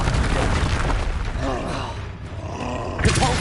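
A Confringo blasting curse explodes in the Hogwarts Legacy video game, a roaring, booming burst amid dense game battle noise, with a sharper pop near the end.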